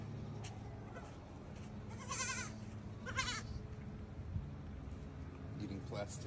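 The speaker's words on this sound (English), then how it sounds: "Look at all these goats." Goats bleat in several short wavering calls over steady background noise, with a person speaking quietly nearby.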